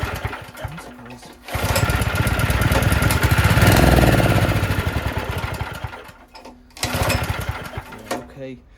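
A Honda generator converted to run on LPG, with a faulty carburettor, sputters into a rough mechanical chatter for a few seconds, dies away, then coughs briefly again on another start attempt.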